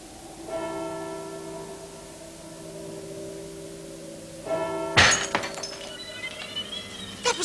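Glass shatters in a 1982 BBC drama scene, one sharp crash with tinkling fragments after it, following a sustained ringing bell-like tone that fades and returns.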